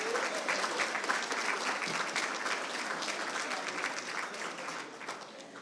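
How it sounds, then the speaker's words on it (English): A round of applause from the audience at a Caribbean awards ceremony, dense steady clapping lasting several seconds and slowly tapering toward the end. "Give my husband a round of applause"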